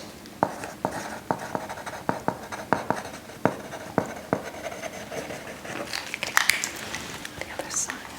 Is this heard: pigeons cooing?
no